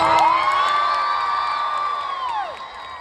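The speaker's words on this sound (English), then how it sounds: "let's have a round of applause for this first part of the panel." A Comic-Con panel audience cheers, with a long, loud whooping whistle-like cry rising over the crowd noise and trailing off as the cheering slowly fades.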